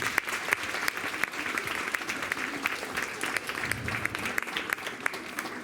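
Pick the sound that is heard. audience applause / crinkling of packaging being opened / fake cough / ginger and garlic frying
audience applause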